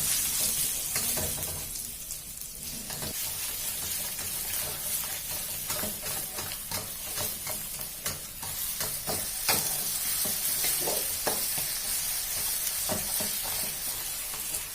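Curry paste stir-fried in a generous amount of oil for Khanom Jeen Nam Ngiao: a steady, close sizzle runs throughout, broken by repeated scraping and stirring strokes of a utensil against the pan.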